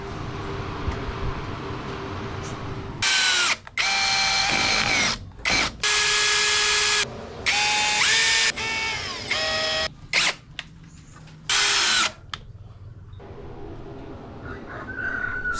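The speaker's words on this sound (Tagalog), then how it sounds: "kumanda rin yung kanyang blower" The cooling blower fan of a Thunderbox Apex Pro 3000W 2560Wh solar inverter whirs steadily in the background, repeatedly cut through by loud, shrill, drill-like or crowing bursts.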